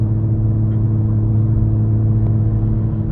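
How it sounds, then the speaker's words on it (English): A car with a BMW B58 engine and an aftermarket manifold cruises along surface roads, a steady low engine drone and road hum from inside the cabin, even and unbroken with no speech. "We're just cruising right along on some of these surface roads"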